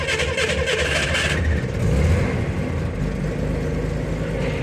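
A 1962 Chevrolet Corvair Monza coupe in Roman Red, in neutral after a few pedal pumps, cranks briefly and catches, settling into a steady, loud, close engine rumble that continues without pause.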